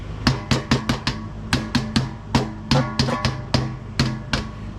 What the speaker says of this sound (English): we simply take our hammer and knock it out